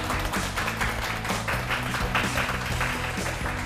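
An audience claps warmly to welcome an art lecturer onto a Korean lecture-show stage, a dense, steady wash of applause over rhythmic music throughout.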